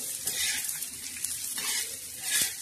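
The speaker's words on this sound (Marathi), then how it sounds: "आता हा असा भाजायचा, खरपूस आणि खमंग असा मस्त भाजायचा।" Black masala being dry-roasted in a pan, a soft continuous sizzle and hiss with light stirring scrapes, faint and close, without talk.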